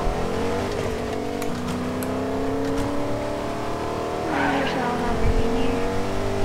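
A car engine drones and revs in the video game Fortnite, with a faint tire squeal partway through, steady and fairly loud throughout.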